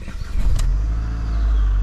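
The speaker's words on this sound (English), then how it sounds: "Let's start the car up now and see." A car engine turns over and catches, then settles into a loud, steady low idle close by, all within about two seconds, with no voices.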